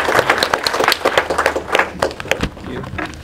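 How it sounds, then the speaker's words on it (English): A small symposium audience claps steadily for a few seconds, the individual hand claps audible, moderately loud and fading slightly toward the end. "can we join in a round of applause for those speakers?"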